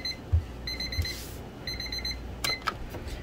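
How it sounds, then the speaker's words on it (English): A kitchen minute timer rings in a home kitchen, sounding several rapid bursts of high electronic beeps in clusters, moderately loud, over a low room hum, with a few clatters. "There's our minute timer"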